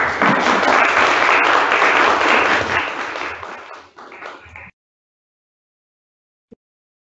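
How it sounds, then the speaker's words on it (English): Sustained applause from the room at a council meeting during an award presentation, loud and steady for about four seconds, then tapering off and stopping abruptly, followed by silence and a single faint tap. "I think that deserves a round of applause."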